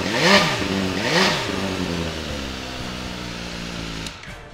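A naturally aspirated 2015 MV Agusta F4 1000R motorcycle revs twice sharply indoors in a showroom, then settles into a steady, close, loud idle.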